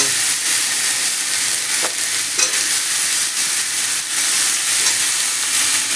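Potatoes sizzle steadily in a hot pan with ginger paste, a loud, dense frying hiss with faint scraping stirs throughout and no voices.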